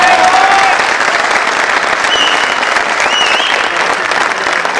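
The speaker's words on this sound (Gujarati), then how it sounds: "અને બધા લોકોએ તાળીઓ પાડી છે" A large audience applauds loudly and steadily at a live poetry recital, a dense continuous wash of clapping close by with a faint crowd murmur underneath.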